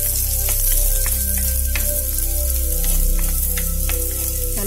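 Pirandai (adamant creeper) sautéing in a pan for kuzhambu, a steady loud sizzle with intermittent scraping and stirring clicks throughout, no talk.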